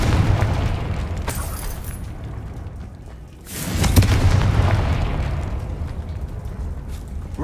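A Confringo spell explosion in Hogwarts Legacy erupts as a heavy booming blast midway, with a rumbling tail over continuous game ambience and earlier pops.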